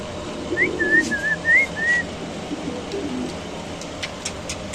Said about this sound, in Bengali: দেখেন কবুতরটা নরের ডাক মাদির ডাক